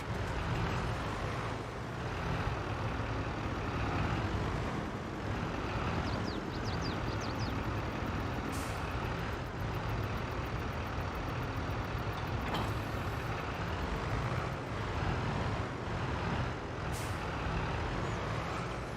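Engine of a JCB machine with all-wheel steering in Farming Simulator 22, a steady low rumble held throughout, with a few hissing air-brake releases and brief beeps.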